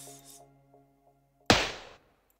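A layered snare drum sample in synth sound design hits once loud and bright with a noisy decaying tail, after a quiet stretch of faint sustained pad tones and soft ticks.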